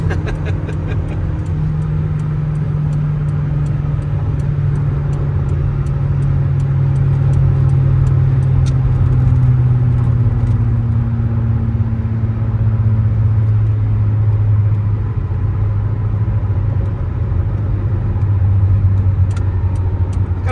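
Engine of a 1987 Toyota MR2 pulling steadily through a downshift, a continuous near droning rumble whose pitch sags and rises slightly over twenty seconds with no talking.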